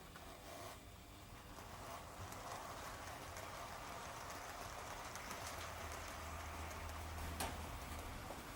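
A model Southern Schools class steam locomotive in green livery hauls passenger coaches on a layout, a steady rolling whir with faint ticking of wheels on rail joints, continuous and moderately close, no voices.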